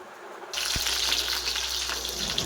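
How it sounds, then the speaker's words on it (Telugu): Thin rice-batter dosa hitting a hot pan, with a sudden loud hiss that starts after a quiet half second and then holds as steady, close frying sizzle until the end. "ఇప్పుడైతే దోశ వేస్తున్నారు"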